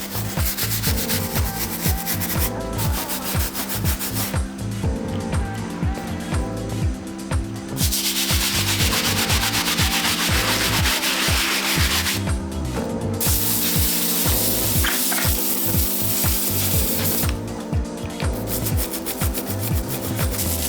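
The grooved soles of Nike Air Yeezy 2 Platinum sneakers are scrubbed with rapid back-and-forth strokes, a close, continuous rasping rub broken by a few brief pauses.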